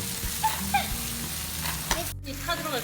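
Pork belly grilling over an oak wood fire, giving a continuous fatty sizzle with scattered crackles and pops up close, a brief dropout and faint background clatter.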